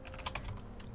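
Keys clatter on a computer keyboard in a few quick clustered bursts of close, light clicks, with a steady low hum underneath and no one talking.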